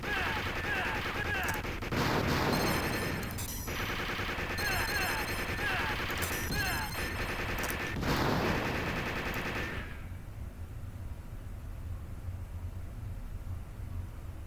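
Rapid machine-gun bursts and shots ring out in Taito's 1988 arcade light-gun game Operation Thunderbolt, loud and repeated for about ten seconds before dropping to quieter background game noise.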